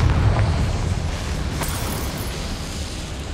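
A Confringo blasting spell goes off in Hogwarts Legacy as a loud, rumbling low boom that starts strong, then settles into a sustained roar with a faint crackle partway through.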